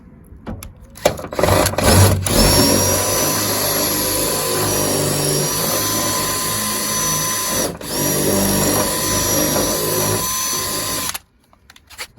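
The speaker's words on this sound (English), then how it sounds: "So we'll get the drill and get that drilled out." A power drill whines steadily at close range, drilling out a door lock barrel on a Ford Transit MK7 van for about ten seconds with a brief pause midway before stopping.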